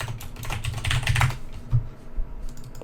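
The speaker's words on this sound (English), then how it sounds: "I have a loud keyboard, as you can tell from hearing that." A loud computer keyboard clatters under fast, irregular typing, with bursts of quick keystrokes and a few heavier thumps, up close and with no talking.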